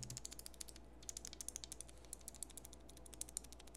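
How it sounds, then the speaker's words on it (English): A loose piece of lens glass or plastic rattles inside an FPV camera adapter on a small drone, making rapid, faint, irregular clicks over a low steady hum. "I noticed this clicking sound"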